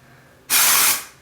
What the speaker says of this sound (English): So we're just going to spray it right in the roots.